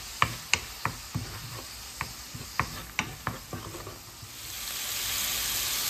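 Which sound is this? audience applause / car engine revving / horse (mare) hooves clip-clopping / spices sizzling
spices sizzling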